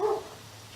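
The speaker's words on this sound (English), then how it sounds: "If you hear dogs barking, just ignore them." A single short dog bark, fairly close, fading into quiet background noise.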